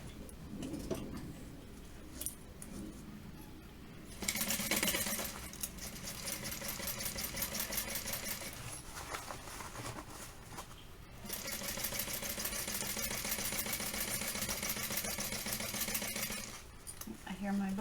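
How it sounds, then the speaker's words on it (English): A sewing machine stitches along the top edge of a fabric tote bag, running in two long steady bursts with a brief pause between them, close and fairly loud, while a person talks over it. "now we're going to stitch along this bottom edge at a top edge"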